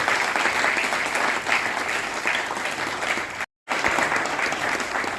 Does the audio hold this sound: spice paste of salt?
no